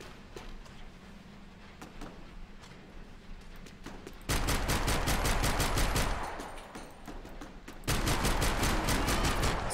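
Pistol gunfire in Max Payne 3 multiplayer: rapid shots crackle through a busy firefight, growing to loud sustained bursts in two long stretches.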